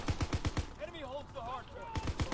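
Rapid gun bursts fire in a WW2 zombie mode shooter, several sharp evenly spaced shots at the start, a brief gap filled with other game sounds, then another quick run of shots.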